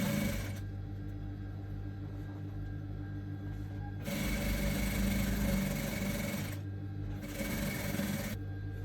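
A sewing machine stitches the main fabric onto a corset cup. It runs in a steady mechanical whir through the whole stretch, growing louder in two bursts of faster stitching, with no talk.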